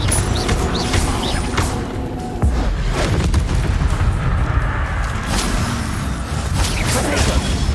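Booming spell blasts from the Confringo explosive charm in Hogwarts Legacy, loud and close, with repeated crashing bursts and whooshes over several seconds.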